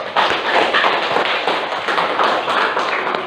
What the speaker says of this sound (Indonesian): tepuk tangan untuk kelompok Kopernikus